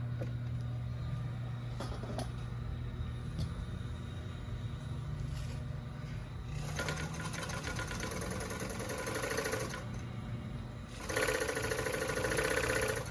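A Rimoldi 261 coverstitch sewing machine hums under a low motor drone, breaking into fast, loud stitching bursts in two stretches, close and without talk.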